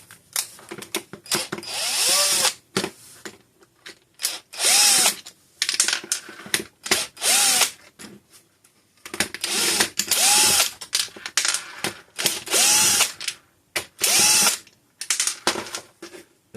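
A power drill unscrews Phillips screws from a central vacuum in repeated short whirring bursts, each rising and stopping, with ratcheting clicks and handling noise between them and no talk.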